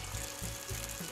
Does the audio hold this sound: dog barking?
no